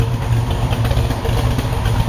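A car engine running on pump gas idles close and loud, with a steady rumble broken by uneven popcorn-like pops, no voices.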